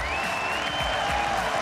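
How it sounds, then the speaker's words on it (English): Large arena crowd at a 2016 League of Legends All-Star esports event roaring and cheering in a steady, dense wash, with a high whistle-like tone gliding over the noise and no speech. "Crowd going absolutely nuts."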